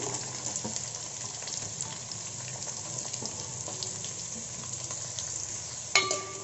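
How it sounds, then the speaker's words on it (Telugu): Onions, curry leaves and green chillies fry in a pan, a low steady sizzle with occasional light stirring taps, quiet and close, ending with a sharper clink. "ఇవి ఫ్రై అయ్యేలా కలుపుకోవాలి ఈ ఉల్లిపాయల్ని లైట్ గోల్డెన్ కలర్ వచ్చేదాకా ఫ్రై చేసుకోవాలండి"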